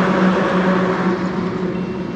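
Dense, steady road traffic roars close by on a busy street in Songadh, Gujarat, a continuous wash of engine noise with a low hum and no pauses.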